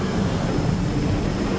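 A jet airplane roars steadily overhead, a dense continuous rumble that stays loud and unchanging throughout with no voices.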